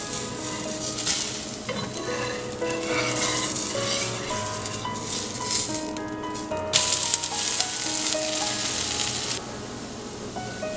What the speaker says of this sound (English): Now we can flip it to the other side.